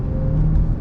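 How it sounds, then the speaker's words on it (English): A nearby car drives in traffic, heard from inside another vehicle as a steady low engine and road drone with a faint tonal hum, loud and continuous, with no voices. "And you can hear this car, listen."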